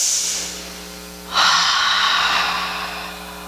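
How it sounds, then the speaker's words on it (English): A slow, deep breath is drawn in and let out during a calm meditation exercise, heard close as a soft airy inhale followed by a longer, louder exhale. "Now we're going to breathe"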